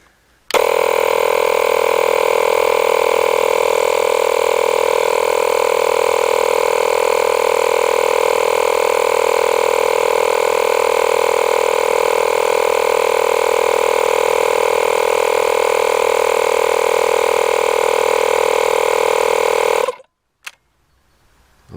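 A Makita DMP180Z cordless inflator runs continuously for about twenty seconds, a loud, steady mechanical drone with a strong buzzing pitch that cuts off abruptly at the end.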